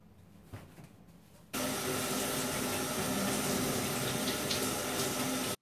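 A shower turns on and water runs hard and steady, a loud continuous hiss filling the bathroom after a short quieter moment with faint movement.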